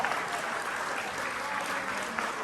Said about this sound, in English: let's have a round of applause for everybody that's volunteered to walk through